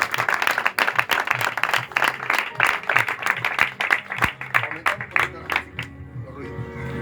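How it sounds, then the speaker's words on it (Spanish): Church congregation applauding during a Spanish-language sermon, dense clapping that holds steady for several seconds, then thins and fades as speech and a low hum take over near the end. "Dale un fuerte aplauso a esta palabra."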